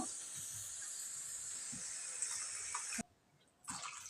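A steady hissing pour of water into a hot pan of fried spice paste for a fish curry, cutting off abruptly near the end before a brief sizzle resumes.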